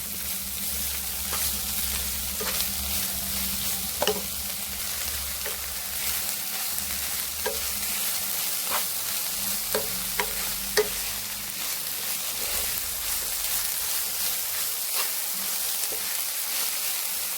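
Steady sizzling of onions and soya frying in a pan, with occasional scrapes and clinks of a spoon stirring, continuous throughout with no talking.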